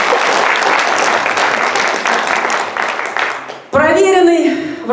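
Sustained audience applause at a folk ensemble concert in a house of culture, dense clapping that fades near the end and gives way to a voice speaking.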